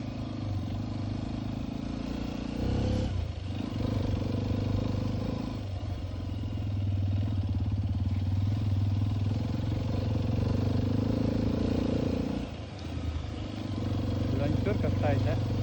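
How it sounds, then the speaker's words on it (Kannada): A Yamaha R15 motorcycle struggles along a rough off-road trail, its engine droning steadily and close by while people talk over it. "ಬೈಕ್ ಹೋಗ್ಬಿಟ್ಟೈತಿ ಇವಾಗ."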